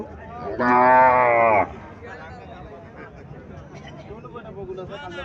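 A single loud, drawn-out moo from a Haryana cow with her calf, lasting about a second, followed by background chatter from people nearby.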